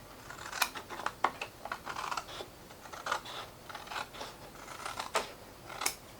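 Scissors cut through gift wrapping paper while a small gift bag is being made, giving a quick, uneven run of crisp, close snips and rustles with no talking.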